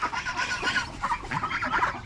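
Chickens cluck close by in a rural hill-country setting, a run of short, repeated, rising-and-falling calls with no one speaking.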